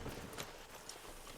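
Horse in Red Dead Redemption 2: brief soft hoof clip-clops over a noisy background wash, faint and close, lasting only a moment.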